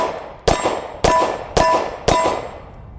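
Four sharp metallic clangs from Hi-Point pistol bullets striking a steel plate target at about 7 yards, evenly spaced roughly half a second apart, each ringing briefly and decaying, loud with no talk.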